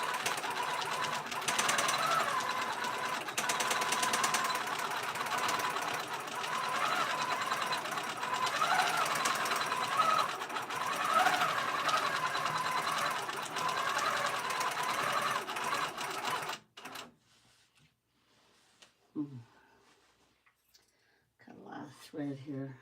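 Loud, continuous mechanical whir and stitching rattle of a quilting machine sewing thick, non-cotton pillow-top fabric on a Cutie frame, running steadily before stopping abruptly, followed by quieter handling sounds and brief speech.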